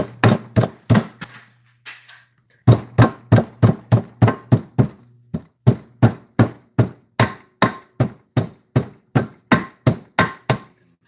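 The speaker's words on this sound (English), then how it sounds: "you want to be careful whenever you're hammering around aluminum" Sharp metallic hammer blows strike aluminum in a steady rhythm, dozens of evenly spaced ringing hits with a brief pause near the start.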